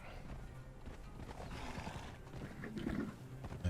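A horse in Conan Exiles snorts and neighs briefly amid game ambience, with soft hoof clatter underneath, fairly quiet and close.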